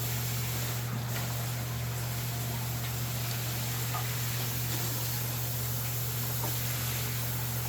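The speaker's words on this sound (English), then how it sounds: "Now we're just going to kind of rinse and agitate the sand. And let it pump all of that cloudy stuff out." Coarse sand in a 125-gallon planted aquarium is rinsed and stirred while the water is pumped out, making a steady close rush of water over a low, constant pump hum.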